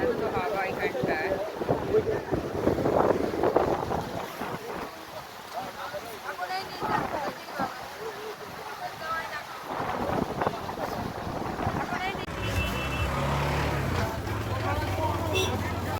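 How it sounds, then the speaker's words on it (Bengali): Strong wind buffets the microphone at a seashore, with rumbling gusts and crashing surf behind; people talk over it. "হাওয়া দিচ্ছে, পেছনের ঢেউটা, হাওয়া দাঁড়ানো যাচ্ছে না, এত হাওয়া এখানটায়"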